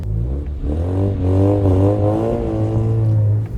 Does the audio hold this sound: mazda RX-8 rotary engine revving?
yes